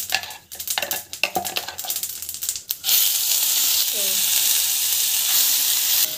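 Mustard seeds, cumin, urad and chana dal with a puree sautéing in oil, starting with sharp clattering spoon-on-pan stirring before settling into a steady close sizzle.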